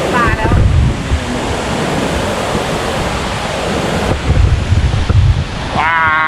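Strong wind roars across the microphone at a rainy-season waterfall in Thailand, a loud continuous rushing wash with brief faint voices at the start and end.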